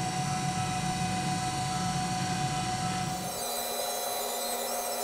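Milling machine cutting a tongue on a custom caliper, a steady loud whirring cut with constant tonal hum that drops in low rumble partway through as the pass changes, no talking.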